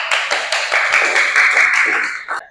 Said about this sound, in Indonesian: berikan tepuk tangan untuk kelompok jujur